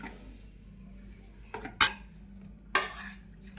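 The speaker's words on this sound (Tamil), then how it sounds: "இப்போ தோல் நீக்கில் உருளைக்கிழங்கு மசிச்சு எடுத்துக்கலாம்." Peeled boiled potatoes for pani puri being mashed in a metal vessel, a few soft thuds followed by two sharp clanking knocks of utensil on metal, close and alone.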